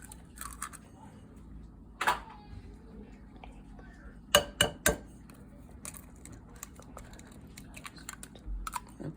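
Eggs go into chocolate cookie dough in a bowl for double fudge cookies, with a few sharp clinks and taps against the bowl, one near the start and a quick cluster midway, over a quiet, faintly busy kitchen background.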